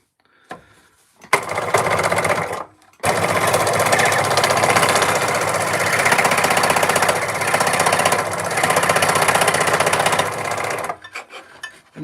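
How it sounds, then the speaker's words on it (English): An air blower clearing wood carving dust runs as a loud, steady roar for most of the stretch, starting after a short burst and brief pause and cutting off near the end. "Let's put this blower down so it blows the"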